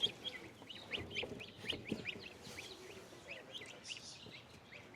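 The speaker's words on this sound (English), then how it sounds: "So that's a couple of baby geese there, the yellow ones. And these white ones are khaki Campbell ducks." Baby geese and khaki Campbell ducklings peep and cheep in quick, overlapping high chirps, a busy close chorus of brooder chicks with faint low rustling beneath.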